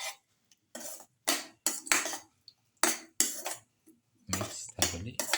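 A utensil stirring and scraping eggplant casserole ingredients with garlic, tomato and yogurt in a bowl, in short repeated clattering strokes separated by brief pauses, close and fairly loud with no talk.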